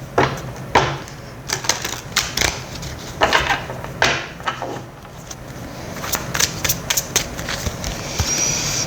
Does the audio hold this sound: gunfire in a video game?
no